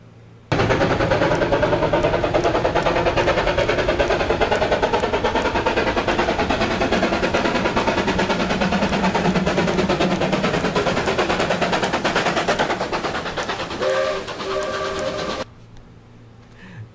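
Train sound effect: a loud, steady rumbling engine with rhythmic clatter running for about fifteen seconds and ending abruptly, with no talking.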